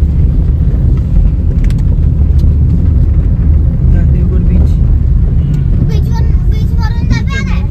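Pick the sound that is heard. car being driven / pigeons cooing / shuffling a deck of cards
car being driven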